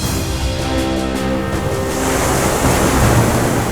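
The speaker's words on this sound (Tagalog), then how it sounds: "Ang hampas ng tubig, kaya raw umabot ng hanggang 2 palapag." Heavy surf crashes against rocks at Cabgan Island in Barobo, Surigao del Sur, rushing and roaring steadily, with a wash of water and wind noise building louder toward the end.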